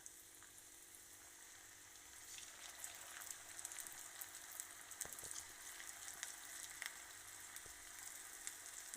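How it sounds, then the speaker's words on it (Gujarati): Leftover roti bhakharwadi pieces fry in hot oil over a medium flame, a faint, steady sizzle with small crackles and no voices. "હવે તેલ ગરમ થઈ ગયું છે તો અંદર એક એક પીસ કરી અને"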